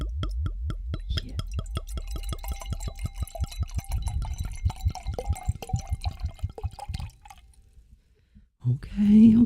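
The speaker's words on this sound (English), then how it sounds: "Okay, are you ready for the pour?" Liquid, likely wine, is poured from a bottle into a glass in a steady glugging rhythm that slows and fades, followed by a brief clink and a sharp tonal sound at the end.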